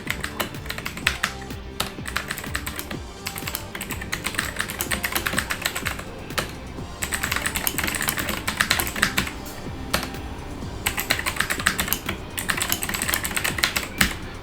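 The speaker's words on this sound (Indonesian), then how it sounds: "Kalian bisa lihat di sini nanti saya ngetik dan di sini juga nanti saya akan ngetik juga." Typing on a Daxa M71 PRO keyboard: rapid, continuous clicky keystrokes in uneven bursts with brief pauses, close and clear, with no voices.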